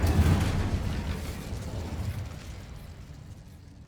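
A fire spell, Incendio, cast in Hogwarts Legacy: a loud whooshing burst of flame at the start that roars and slowly fades over a few seconds, with no talk.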